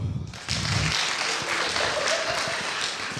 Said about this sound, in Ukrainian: О, о, дуже знайомі тривожні оплески, да?